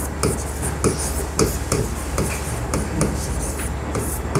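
A pen scratches across paper in steady, rhythmic strokes, close and fairly clear over a low constant hum, with no talk.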